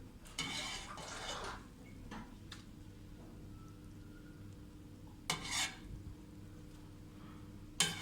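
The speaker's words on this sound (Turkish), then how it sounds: "Şu üstündeki köpüğü böyle bir kaşık yardımıyla alacağım." A spoon skimming foam off sour cherry juice in a pot: a few soft metallic scrapes and taps against the pot rim, spaced out over a quiet background hum, with no voices.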